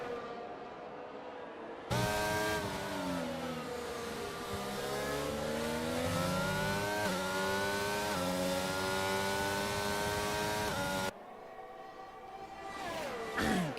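Formula 1 cars from F1 2022 racing at the French circuit, one high-pitched engine screaming close past, rising and falling through gear changes, with another car's whine after a brief drop.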